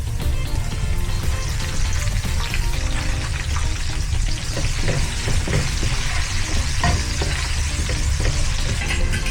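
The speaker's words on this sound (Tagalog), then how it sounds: "Ibabrow lang natin konti itong garlic." Garlic and onion sauté in a hot pan with a steady loud sizzle, and occasional stirring scrapes come through close up as the frying runs continuously.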